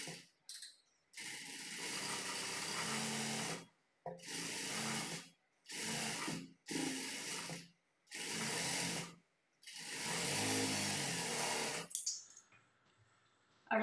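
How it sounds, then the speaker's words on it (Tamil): A sewing machine top-stitches the turned lining of a princess-cut blouse. It runs close and loud in about six bursts of different lengths, with short pauses between them. "மேலே வந்து டாப் ஸ்டிச் வந்து போட்டுக்குங்க."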